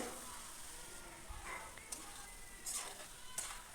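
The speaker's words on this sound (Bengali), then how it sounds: "কাবলি ছোলাটা যেহেতু আমার সেদ্ধই করা আছে এবার এটাকে আমি ভালো করে একটু কষিয়ে নিচ্ছি খানিক্ষণ" Boiled kabuli chickpeas being sautéed in a pan give a low, steady sizzle with a few faint scraping stirs, quiet and continuous throughout.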